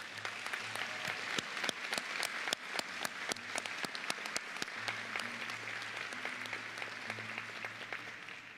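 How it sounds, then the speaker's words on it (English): Audience applause at a college graduation ceremony, with sustained dense clapping from a large crowd that keeps a steady level throughout, some claps sharper and nearer in front. "Let's give them a round of applause."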